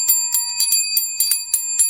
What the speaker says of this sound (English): Like a bell that you'd use in a shop.